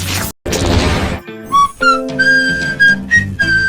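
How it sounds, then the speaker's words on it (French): A person whistles a series of varied tunes, the clear tonal notes rising and falling in short melodic phrases after a loud crash and brief silence at the start. "J'adore siffler des airs différents."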